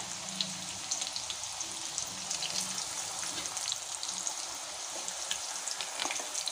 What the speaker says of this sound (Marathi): आता आपण पुऱ्या छान तळून घ्यायच्या आहेत